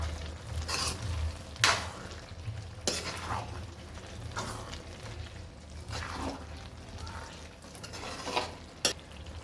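Ingredients for a Gujarati onion dish being stirred and mixed in a pan, with a steady soft sizzle and repeated scraping strokes of a spoon, a few sharper clinks against the metal.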